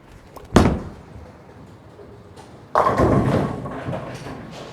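A Hammer Scorpion Strike bowling ball thuds onto the lane, then a loud, sustained rumble and clatter builds as it rolls down toward the pins, heard alone without talk.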